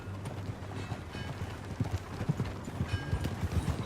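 Horse hooves clip-clop in a steady rhythm on a ride in the Red Dead Redemption 2 video game, moderately close with low thuds running through the whole stretch and no talk.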